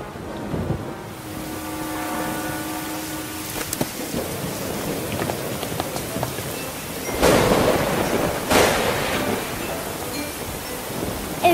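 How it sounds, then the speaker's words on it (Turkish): Rain falls steadily on a surface in a cartoon storm, with two loud, broad crashes of thunder rolling in near the end, and no voices. "Gök gürültüsü"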